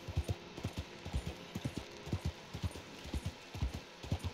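Horse hooves clip-clop in Red Dead Redemption 2, a steady, rhythmic stream of muffled thuds at a walking or trotting pace, moderately close and alone.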